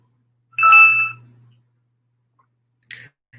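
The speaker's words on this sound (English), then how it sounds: "What happens is when my mail comes in, the daggone thing dings" A computer's email notification ding sounds once, bright and ringing, then fades into silence, with a softer brief click near the end.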